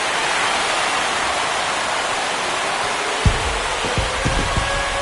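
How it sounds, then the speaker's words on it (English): Home crowd at a Dodgers versus Cardinals baseball game cheering after a home run, a dense, loud hissing roar that stays level throughout, with a few dull thumps near the end. "He just sparked this home crowd in a big way."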